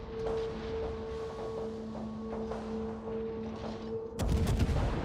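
Naval guns firing in World of Warships around an Alaska cruiser, a steady rumble of distant salvos and impacts under continuous engine drone, ending in a louder, denser burst of gunfire near the close.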